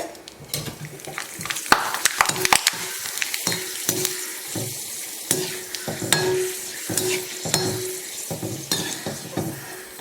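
Cluster beans frying in a pan on the stove for kothavarangai vathal, a steady close sizzle broken by scraping stirs and occasional clinks of the pan, with no voices.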